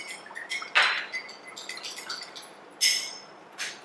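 A spoon clinks against a glass while tea is mixed with sugar syrup: a few bright, separate taps and rattles, close and fairly quiet, with gaps of near silence between them.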